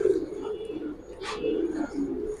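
Pigeons of a fancy breed coo at close range with low, soft, throaty murmurs, and one brief sharper rustle falls in the middle.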